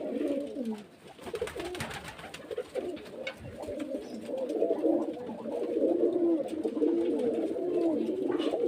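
Several Giribaz pigeons coo continuously at close range, their soft overlapping calls rolling on with light background rustle.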